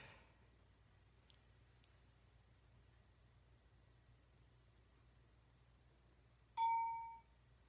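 A single bright ding rings out once after a long stretch of near silence in a quiet painting studio, loud against the hush and fading over about half a second.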